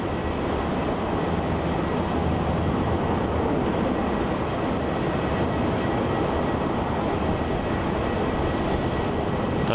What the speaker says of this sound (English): Now we've got that Bartik 737 MAX heading down taxiway Alpha there.